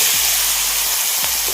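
Soybeans frying in a pan for a vegetarian dish, a steady close sizzle with faint scraping as they are stirred, no voices.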